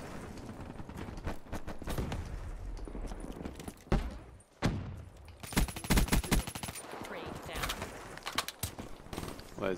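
Bursts of automatic gunfire crackle in a Black Ops 3 match, sharp, loud volleys with brief gaps between them, plus a heavy cluster of rapid shots in the second half.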